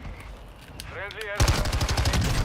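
Rapid automatic gunfire in a video game bursts in loudly after a short, quieter stretch with a brief voice, then continues as a fast, even stream of shots.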